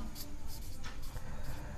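Chalk or marker scratches across a board during a maths lesson in quick short strokes, close and fairly quiet, with no speech.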